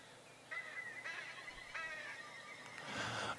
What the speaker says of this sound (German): Okay, es scheint nochmal ein Vogel zu sein.